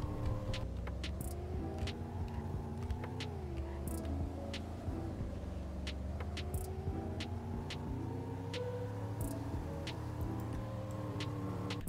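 A 1969 Dodge Coronet cruises with a steady, low engine rumble throughout, close and continuous, with faint ticks and small rises and dips in engine tone as it drives.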